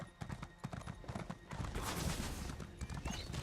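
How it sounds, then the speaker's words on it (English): A summoned horse in The Elder Scrolls Online clip-clops in quick hoofbeats and then lets out a loud, drawn-out neigh, with game ambience around it. "Now we can head up this way and resummon my horse."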